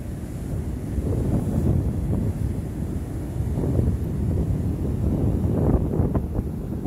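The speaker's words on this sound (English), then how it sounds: "Windy and cold this morning." Wind gusts at a cold ocean shore covered in foam, a steady low roar of buffeting against the microphone with surf rumbling beneath, continuous and close throughout.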